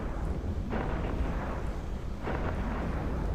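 The Macarial spaceship exploding during a solo PvP fight in EVE Echoes, a loud, dense rumbling roar with two heavier bursts swelling within it, sustained throughout with no talk.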